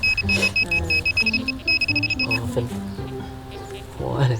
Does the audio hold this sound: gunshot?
no